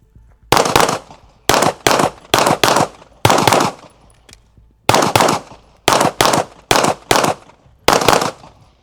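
Rapid gunfire bursts during a competitive shooting drill, loud and close, coming in about ten sharp clusters of several shots each with short pauses between them, and no talking.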